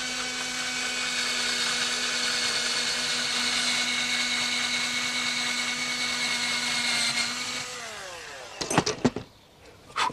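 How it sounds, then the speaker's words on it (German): A power drill in first gear whines steadily as it bores holes, then slows and winds down, followed by a few sharp clattering knocks. "Und dann im ersten Gang schön vorsichtig bohren, sehr vorsichtig"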